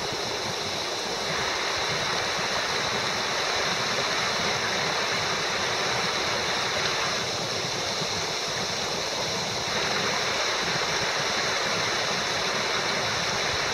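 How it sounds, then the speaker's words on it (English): Reavis Falls, a 200-foot waterfall deep in the Superstition Mountains, roars as a steady, broad wash of falling water, loud and continuous throughout with no voices. "Deep in the heart of the Superstition Mountains is a 200-foot waterfall."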